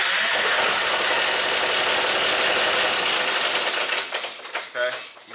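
Diesel engine of a 1994 John Deere 5400 tractor firing up and running with a loud, steady clattering throb, faltering and dropping in level near the end.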